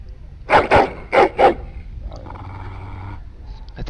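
A dog in a video game lets out four sharp, loud barks in two quick pairs, followed by a softer sustained tonal game sound.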